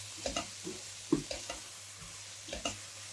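Onions and mushrooms frying for a turkey and crème fraîche dish, stirred in the pan: a quiet sizzle broken by several soft, scraping stir strokes at irregular intervals, with no voices.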